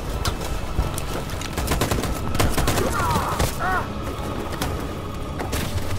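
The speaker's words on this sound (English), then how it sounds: "That machine gun is taking down everything that moves." Sustained machine gun fire rattles in rapid bursts amid a war game battle, loud and steady with booming impacts underneath and brief whistling sounds partway through.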